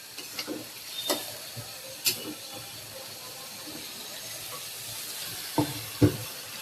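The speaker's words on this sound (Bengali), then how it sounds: "মশলা কষানো শেষে মাছগুলা দিয়ে তারপরে আর কি একটু কষাই নিতেছি" Fish sautéing in a spice paste in a home kitchen gives a faint, low sizzle, broken by a few sharp clicks and taps of stirring scattered through it.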